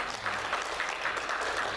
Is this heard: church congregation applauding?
yes